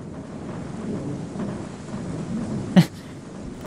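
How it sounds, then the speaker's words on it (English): Steady rain hiss fills a haunted mall scene in a PS1 demo game, with a single brief thunder crack late in the loop. "it's pretty sad when rain hurts you"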